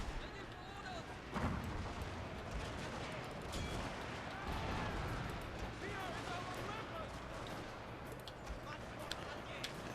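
Grenades thrown by ninja units burst amid continuous battle noise in Total War: Shogun 2 (Fall of the Samurai), with scattered sharp bangs and crackling gunfire over a dense, rumbling background.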